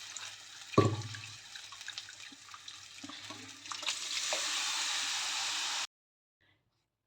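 Water is poured into a pan of methi curry made with mixed lentils: a sharp splash, then a steady rushing pour that swells louder before stopping abruptly into silence.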